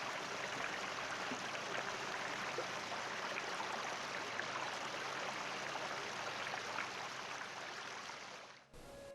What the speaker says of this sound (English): A babbling creek is flowing next to the trail.